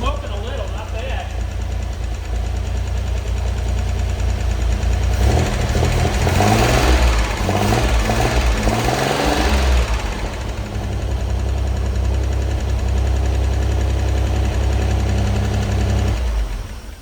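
A freshly rebuilt six-cylinder engine runs rough on its first start, a loud uneven chugging idle with irregular knocks and misfiring pulses that swells in the middle, while people talk and cheer over it.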